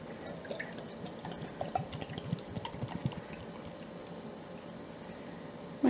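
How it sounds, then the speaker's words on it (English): Beer poured into a glass, a close burbling and glugging stream with fizzy patter that swells and then settles into a soft hiss, with no talking. "I'm going to pour you a full glass."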